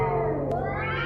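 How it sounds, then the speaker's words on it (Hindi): Cats screech from a rooftop in one close, drawn-out, wailing caterwaul that stays loud for about a second. "वो बिल्लियों की चीखने की आवाज छत से आ रही थी।"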